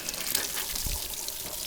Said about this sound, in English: Let me turn on some water.